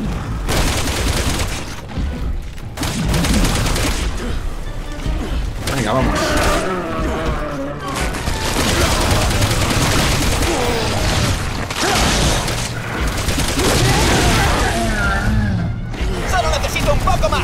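Bursts of rapid gunfire and crashes from Resident Evil 6 on PS4, loud and repeated, with someone talking briefly between volleys.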